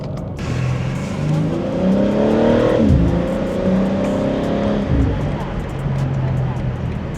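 A stock BMW G82 M4 Competition engine revs hard, climbing and falling in pitch through several pulls, loud and close, with a voice talking over it.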